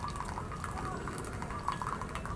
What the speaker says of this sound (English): Still get some pretty good espresso, look at that, come out of there.